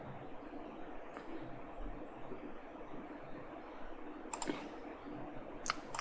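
Computer mouse clicks during 3D CAD drafting work in AutoCAD or Inventor, a few sharp isolated clicks near the start and later in a pair, close and faint over a quiet room hiss.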